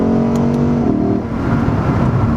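A 2022 Lexus IS500 V8 sedan revving loudly under acceleration, a steady throaty drone rising in pitch with induction noise piped into the cabin, heard from inside.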